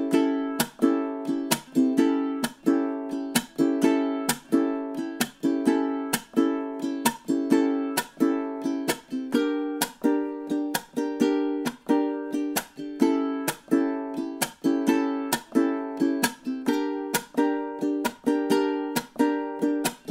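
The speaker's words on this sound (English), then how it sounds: "going all the way through with the repeat, the strum part should sound something like this" A ukulele strums the rhythm part of a tune with a steady, even strum pattern that repeats without a break, loud, close and alone, with no talk over it.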